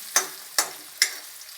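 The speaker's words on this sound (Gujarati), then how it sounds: "ડુંગળીને પહેલા તળવા દેવું" Onions frying in a pan with curry leaves for an aloo paratha filling: a soft sizzle punctuated by three sharp, evenly spaced spatula strokes, close and clear, with no talking.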